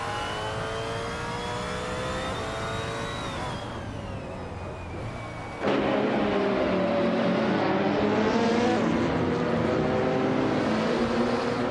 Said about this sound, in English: Graininjep is driving a 2010 BMW M3 GT4